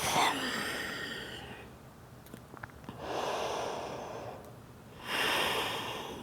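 A person breathes slowly and audibly during a yoga forward fold, with a few long airy inhales and exhales rising and falling close to the microphone, and no talking.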